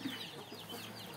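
Farmyard poultry such as ducks and guinea fowl give faint clucking calls, brief and somewhat distant, with outdoor background noise.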